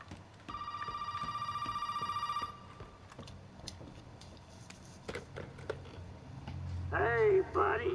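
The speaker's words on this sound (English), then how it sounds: "No, the phone's ringing." Telephone ringing in the video game Resident Evil 7, a rapid electronic trill lasting about two seconds, followed by footsteps, clunks and someone speaking.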